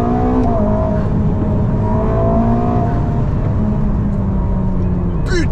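Ferrari SF90 biturbo engine accelerating, a loud, close, continuous roar with rising whining tones from inside the car, sustained throughout with a brief sharp squeal near the end.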